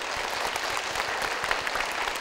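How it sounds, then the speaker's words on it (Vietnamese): A studio audience at a Vietnamese TV game show bursts into loud, sustained applause, a dense wash of clapping with soft low thumps, filling the whole moment with no speech. "cùng dành một tràng vỗ tay thật lớn"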